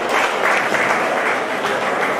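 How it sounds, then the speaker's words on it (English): Loud, dense audience applause at a digital technology closing ceremony, a continuous close roar of many clapping hands filling the whole moment. "a big applause for"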